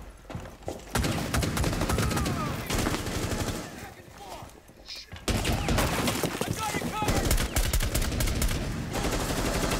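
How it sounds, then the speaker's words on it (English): Rapid, loud gunfire punched through a wall in Rainbow Six Siege, dense volleys of automatic shots with a short lull midway before the firing resumes, a voice talking over it. "They are literally shooting through the wall."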